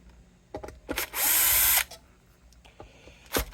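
A Bosch power drill whirs in one loud burst lasting about half a second during a guitar setup on a 1979 Les Paul Custom, with light knocks and handling clicks before and after.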